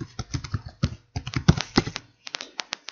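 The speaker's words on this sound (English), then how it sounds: "Once you've got to the home page or the login screen, type in your details." Close computer keyboard typing as login details are entered: quick bursts of crisp keystroke clicks, a brief pause, then a few more separate taps, with no voices.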